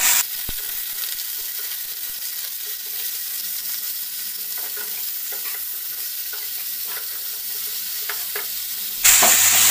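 Flat beans salted with half a spoon of salt sizzle as they fry in a pan for coconut sheem paturi while being stirred, a steady close hiss with soft scraping, swelling louder near the end.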